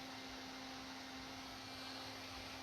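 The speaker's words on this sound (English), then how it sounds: "There's my little fan." A small rechargeable electric fan blow-drying paint gives off a quiet, steady whir with a constant motor hum, running alone with no talking.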